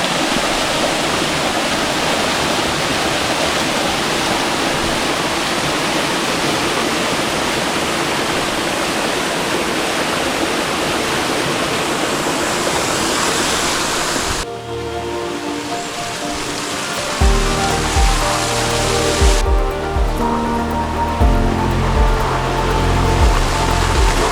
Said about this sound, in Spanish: Aquí os dejo con esta espectacular cascada.